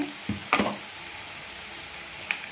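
Cut green chilies fry in oil in a pan, giving a soft steady sizzle with a few louder crackles and stirring scrapes near the start, no talk.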